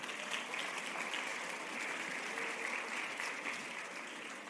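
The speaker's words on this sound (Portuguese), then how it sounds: "dê uma salva de palmas ao Senhor" A church congregation gives steady, distant applause that fills the room evenly for several seconds, with no talking over it.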